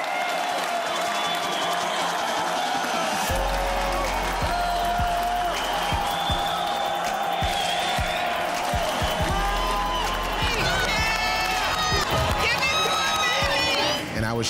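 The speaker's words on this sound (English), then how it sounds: "The crowd's going crazy." A big crowd cheers and applauds loudly, with whoops and shouted voices layered over steady clapping for the whole stretch, swelling toward the end.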